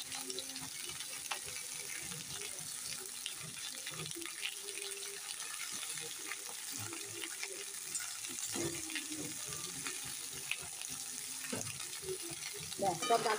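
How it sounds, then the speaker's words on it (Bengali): Thick vegetable stalks for a spinach-stalk ghonto fry and sizzle faintly in a pan while being stirred, with scattered scraping and clinking under a soft, steady hiss. "এবার একটু ঝাঁকা করে নেড়ে দিলাম"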